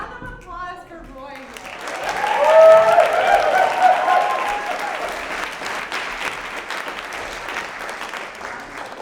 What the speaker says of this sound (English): A round of applause for Roy.